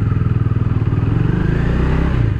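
A motorcycle rolls at about 40 km/h and slows with clutch and brake held together, its engine throbbing in a steady, close, rapid pulse that stays loud throughout.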